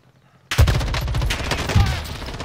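Call of Duty Warzone gunfire bursts in suddenly after near silence, then keeps going as rapid automatic fire with heavier, punchier shots mixed in, loud and close throughout.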